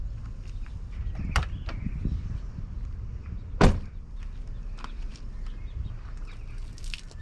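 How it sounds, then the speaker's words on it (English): The door of a gas locker on a La Strada Nova EB 4x4 motorhome is opened, giving a few creaks and rattles and then one sharp latch clunk, with faint outdoor background and no speech. "this here is the gas locker. And if I can open the door."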